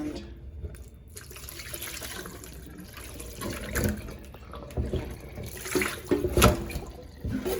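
Tap water runs into a pot of washed meat in a home kitchen, a continuous splashing, gurgling stream with louder bursts as the flow shifts, heard up close with no talking.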